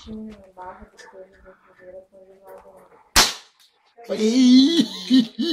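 A single sharp gunshot, fired at cans, cracks close by between stretches of people talking, with voices continuing right after.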